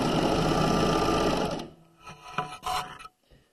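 Serger running an overlock edge stitch along the crotch seam of flannel pajama pants, a loud steady whir for about a second and a half, then slowing into a few fainter bumps and rubs.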